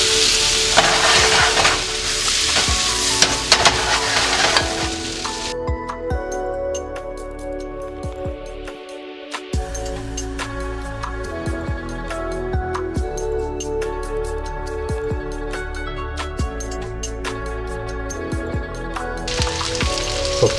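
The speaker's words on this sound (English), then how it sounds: "Now I'm gonna add our beautiful shrimp." Shrimp sizzles in garlic butter in a pan, making a steady close frying crackle that thins out briefly midway, with some stirring and clinks before the loud sizzle returns.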